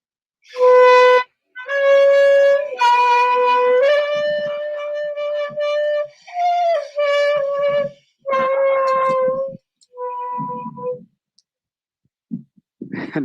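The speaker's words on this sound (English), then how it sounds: "I have right here on my desk a miniature saxophone from China" A miniature saxophone from China plays a series of bright, nasal sustained notes and short phrases, with gaps between them, close and fairly loud, no talking.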